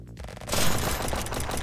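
Rapid gunfire in a video game, loud and close, a dense burst of overlapping shots sustained for over a second after a brief quieter lead-in.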